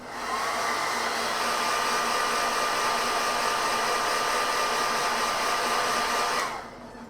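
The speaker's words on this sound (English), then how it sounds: "I'm just going to give it a blast with the hairdryer to make sure it's completely and utterly dry." A hairdryer blasts steadily over a freshly painted miniature, a loud, close, continuous whooshing whir with a faint tonal whine that holds for several seconds before cutting off.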